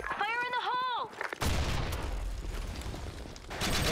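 Grenade blast in the shooter game BlackShot, a sudden loud burst with a noisy rumbling tail, following a short game voice line.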